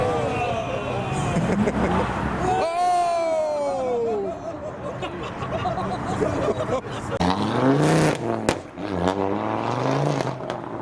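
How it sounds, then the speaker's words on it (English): An Ultima sports car in Rothmans livery pulls away from a busy car meet, its engine revving and rising in pitch over crowd noise and people talking nearby. "the Ultima in the Rothmans livery departs"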